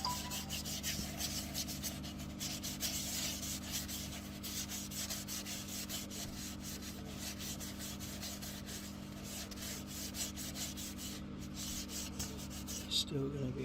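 A robinia wood bowl is sanded with sanding sealer as it turns, giving a continuous, fairly faint abrasive rubbing hiss over a steady low machine hum. The sound runs unbroken for the whole stretch with no talking.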